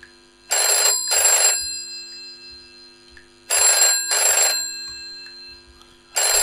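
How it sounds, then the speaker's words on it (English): A telephone rings loudly in repeated double bursts, two rings close together followed by a pause, with nothing else heard between them. "Answer the phone."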